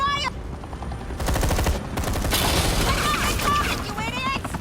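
Repeated bursts of gunfire in the Batman: The Enemy Within video game, rapid shots in volleys, loud and close, with game dialogue spoken over parts of it.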